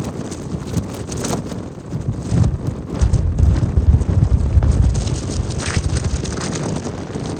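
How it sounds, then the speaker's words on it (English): Steady wind roars and buffets the microphone throughout on Helvellyn's Striding Edge in England's Lake District, with low rumbling gusts that swell in the middle and stay strong to the end. "Pretty windy."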